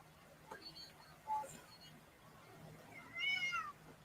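A female cat meows several times indoors, a few short faint calls and then a longer, clearer meow near the end, all over quiet room noise.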